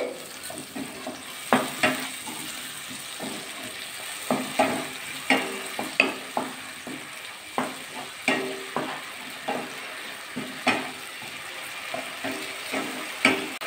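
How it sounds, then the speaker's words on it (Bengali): Spice paste of tomato, green chilli, salt and turmeric with a splash of water, stir-fried for an egg and bottle gourd dish, with a soft sizzle under repeated scraping and stirring strokes of a spatula against the pan, close by. "ভালো করে মশলাটা কষিয়ে নিতে হবে"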